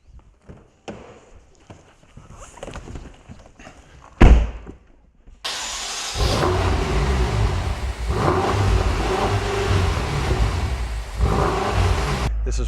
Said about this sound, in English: I'm going to go ahead and hop in it, start it up.